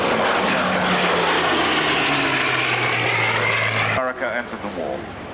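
A Canadian-built Hawker Hurricane fighter at an airshow drones steadily with its piston propeller engine, the pitch sliding downward as it passes, loud and continuous, before cutting to quieter sound at the end.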